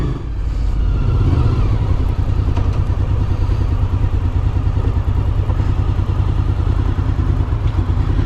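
A high-mileage Honda VFR750 V4 motorcycle engine idles steadily and up close, a continuous low throbbing rumble with light mechanical clatter throughout and no talking.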